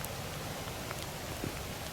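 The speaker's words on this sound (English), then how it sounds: "It's not a cold rain, it's very warm." Warm rain falls steadily beside a low-banked river, a constant even hiss of drops on surfaces with no breaks, fairly close and moderately loud.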